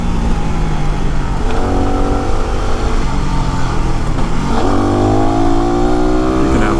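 A Yamaha WR motorcycle ridden on rough, tight roads, its engine revving up and down through gear changes with a loud, continuous buzz, heard close.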